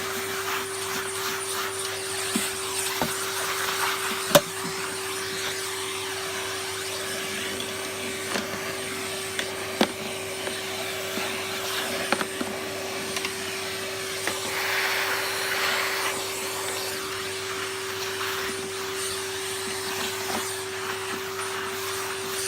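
A SEBO Felix vacuum cleaner, refurbished, runs steadily at close range with a constant motor hum and airy hiss, broken by a few small clicks and knocks as it is moved around.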